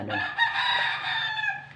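A gamecock crows once nearby, a loud, drawn-out cock-a-doodle-doo lasting over a second, clear against a quiet background.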